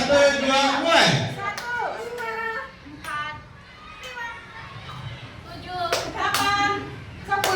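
Schoolchildren clapping their hands in bursts of quick claps during a class counting game, mixed with lively children's voices and an adult leading.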